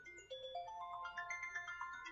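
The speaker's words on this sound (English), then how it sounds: "Oh, and now the phone's ringing." A phone ringing with a melodic ringtone, a run of rising electronic tones repeating in a quick bouncy pattern, moderately quiet and heard alone without talk.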